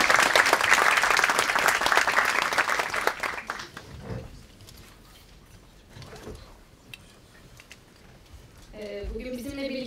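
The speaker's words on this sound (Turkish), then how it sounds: "Kendisini alkışlarla sahneye davet ediyoruz." Symposium audience applauding a film director onto the stage, loud dense clapping for about three seconds that fades into quiet room noise, then a voice begins talking near the end.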